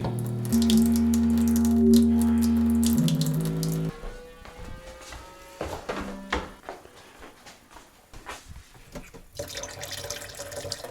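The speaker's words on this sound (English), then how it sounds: "If I turn on the tap at the basement, it will drain all the water out of the lines." Water drains from household water lines through an opened basement tap, a steady gushing hiss for the first few seconds that cuts off, followed by sputtering splashes, drips and clunks.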